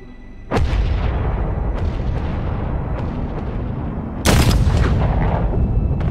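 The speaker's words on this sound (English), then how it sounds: "As soon as you hear the firing, you get a crack and a thump." Rifle gunfire during the Troubles in Ballymurphy, Belfast: two loud, close shots with a sharp crack and thump, the first and second separated by a few seconds of sustained rumbling noise.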